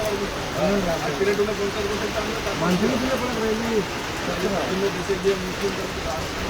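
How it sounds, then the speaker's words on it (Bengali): Heavy rain patters steadily on a surface in Rupnarayanpur, a soft continuous hiss, while a person talks over it. "দেখছেন বৃষ্টির ফোটা"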